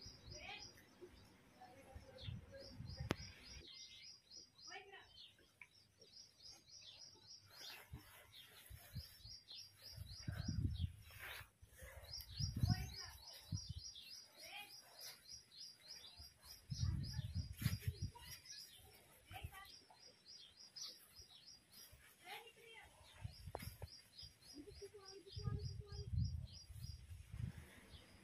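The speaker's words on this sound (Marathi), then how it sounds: "मागे पक्ष्यांच्या किलबिलटाने जणू माझ्या व्हिडिओला म्युझिकच दिलेले." Small birds chirp and tweet in repeated bursts in the background of an outdoor morning garden with hibiscus flowers, their high calls clear through the clip, with close, louder thumps and handling noises in between.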